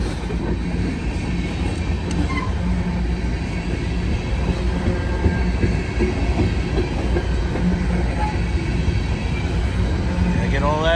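Freight train carrying ethanol and asphalt tank cars rolls past in summer, a steady low rumble with faint wheel clatter and a brief squeal near the end, continuous throughout.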